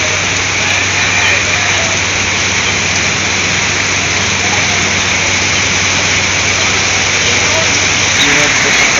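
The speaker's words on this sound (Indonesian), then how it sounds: "Hujan deras lagi. Posisi sekarang lagi hujan ya" Heavy rain pours steadily in a dense, constant hiss, loud and close throughout, with a low hum running underneath and no clear talk.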